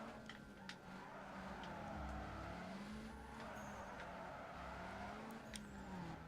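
A car drifting in Need For Speed Underground 2, its engine droning steadily while tires squeal in long, wavering sweeps, rising and falling through the slide at a moderate, even level.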